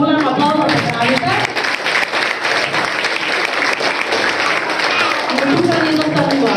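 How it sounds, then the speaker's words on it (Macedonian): A large audience applauds loudly at a kindergarten's end-of-year performance, steady dense clapping filling the whole stretch with crowd noise and voices mixed in. "се ќе ве замолам за една голема аплауз за Славица."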